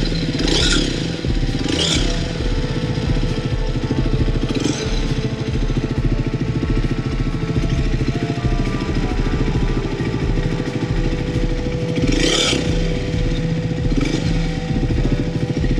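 A Triumph Speed 400 motorcycle engine runs steadily close by, with a rattly, vibrating idle and a few brief revs throughout.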